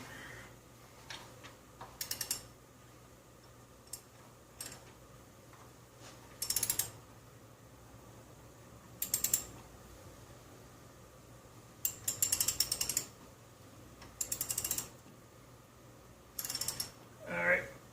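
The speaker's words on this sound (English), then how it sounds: "Garbage ratchet." Ratchet wrench clicking in short bursts while working on a Geo Tracker engine during water pump and timing belt service, several separate spurts of rapid ticking over a quiet background, with brief faint voice.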